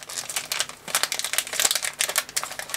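A crinkly plastic surprise packet from a Disney-themed Kinder Surprise mix is torn open and handled up close, a busy run of sharp rustles and crackles without speech.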